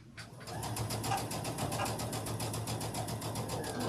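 A sewing machine stitches a seam on a Thanksgiving table runner, running in a fast, even stream of needle clicks after a brief quiet start, steady and close throughout.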